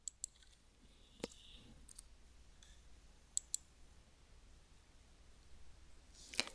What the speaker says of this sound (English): I'll update the quantity to 2 and click the Go button.